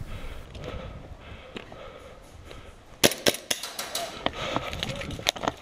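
Sharp snapping shots from an airsoft pistol, a CO2-powered sidearm, crack out in a quick irregular burst during an outdoor hardball game at Badboys Airsoft, several close reports amid rustling and movement.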